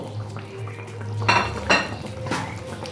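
Fried rohu fish pieces are set into a pot of potato and flat-bean curry one by one, giving a few clinks and soft knocks of metal utensil against pot over a low steady background, with no talk.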